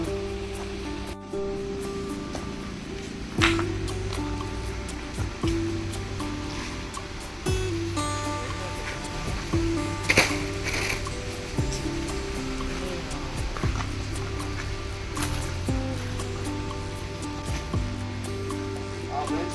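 Steady rain falls outdoors, a dense hiss with occasional louder spatters, while a low tonal hum and faint talk run underneath.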